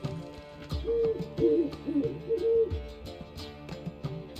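A bird in the video game Witcher 3 gives a series of close, clear hooting calls, about four or five short tonal hoots in quick succession over a quiet background with faint clicks.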